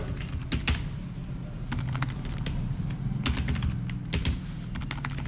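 Steady typing on a computer keyboard while entering a password, quick uneven key clicks running continuously over a low background hum.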